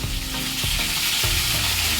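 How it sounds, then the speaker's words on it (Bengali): Fish heads fry in hot oil in a pan before going into a mung dal dish, a loud, continuous sizzle with a couple of stirring scrapes. "মাছের মাথাগুলোকে লাল করে ভেজে নেব প্রথমে"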